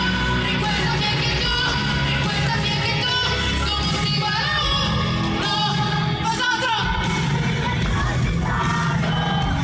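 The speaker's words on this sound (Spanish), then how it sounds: "Ahí se escucha que estoy gritando como una loca" A fan screams and yells along at a live concert, her voice lost in a dense, loud mix of amplified music and crowd noise that runs without a break.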